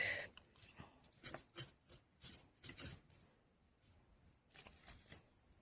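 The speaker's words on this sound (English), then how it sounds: "I'm gonna use a pencil for now." A pencil sketches on sketchbook paper in faint, intermittent scratchy strokes that come in short bursts against near silence.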